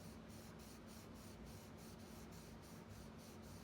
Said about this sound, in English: As I grade across, I'm actually lightening my pressure on the pencil